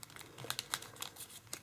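Origami paper is folded by hand, giving soft, close crinkles and light rustling taps in quick irregular bursts at a low level.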